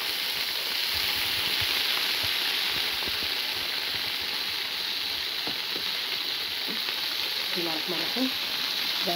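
Clams (Egyptian om el kholoul) sizzle and crackle steadily in hot oil, a continuous close frying hiss with scattered small pops throughout.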